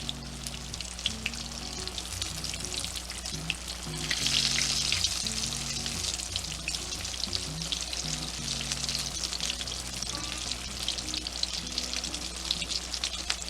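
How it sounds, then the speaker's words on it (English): Fried green tomatoes sizzle steadily in hot grease in a pan, a continuous close crackling hiss that swells briefly louder partway through, with no voices. "that sizzle of the grease"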